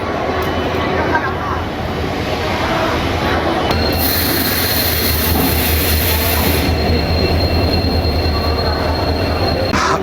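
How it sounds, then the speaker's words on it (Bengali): Train pulling into a railway platform on the Kolkata to Purulia route, a loud continuous roar of wagons with a rising high-pitched wheel squeal that holds from about four to seven seconds, close by, with a faint voice in the background. "প্ল্যাটফর্মে ট্রেন প্রবেশ করছে।"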